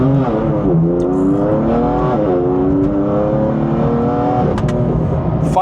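A BMW M4 GTS with its 500-horsepower S55 engine revs hard, its loud engine note climbing and dropping in repeated sweeps close by, with no talking.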